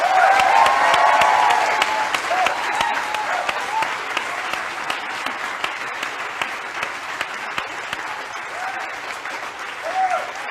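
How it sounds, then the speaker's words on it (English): A large audience applauds and cheers loudly as a speaker comes on stage for a HeforShe campaign event. The dense clapping continues steadily throughout, with occasional whoops. "Please join me everybody and make a lot of noise"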